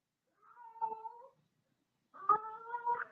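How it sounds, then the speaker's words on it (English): A cat meows twice close by, a short drawn-out call followed by a longer, louder one after a brief pause. "That's my cat, just wanting to, to share things with us."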